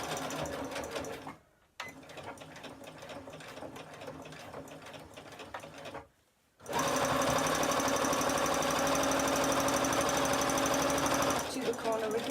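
A Butterick EB 6100 sewing machine stitches over an elastic band on a simple fabric bag, running in steady bursts with two brief pauses, then a longer, even run close up.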